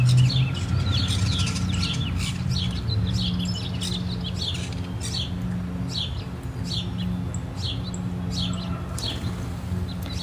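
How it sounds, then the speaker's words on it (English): Wild birds sing outdoors in a quiet natural spot in April, with repeated bright chirps and short song phrases scattered across the clip. A steady low background hum runs underneath, and no one speaks. "sit here and record the bird sounds"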